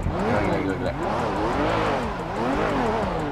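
Nissan Skyline GT-R R34 engine in GTA V runs loud and steady, its revs rising and falling in smooth waves with a rough low drone throughout, no pauses in the sound.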